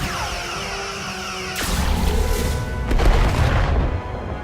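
Starship weapons fire in Star Trek Resurgence: a sudden loud blast cuts through a humming background, followed by a rumbling barrage and a second sharp hit, with no talking.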